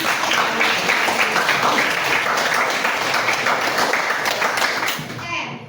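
A classroom of students applauds together, a dense, steady burst of many hands clapping close by for several seconds before tapering off at the end.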